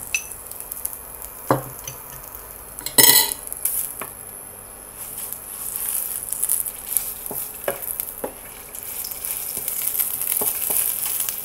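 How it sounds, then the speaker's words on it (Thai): Curry paste stirred and scraped around a hot wok, with clinks of a utensil against metal and a soft sizzle underneath; no talking. "ตั้งกระทะให้ร้อนค่ะ แล้วก็ผัดพริกแกง"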